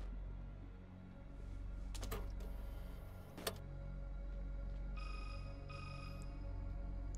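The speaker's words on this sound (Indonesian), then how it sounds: "Telepon lagi dari Simon." A telephone rings in Resident Evil 6, two bursts of a thin, steady ring arriving late over a droning game ambience, after a few sharp clicks and thuds.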